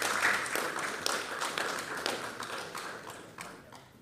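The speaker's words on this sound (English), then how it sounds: "Please, with a round of applause" An audience gives a round of applause to welcome the chairperson of the National Commission for Civic Education, a steady wash of many hands clapping that slowly fades, with no speech over it.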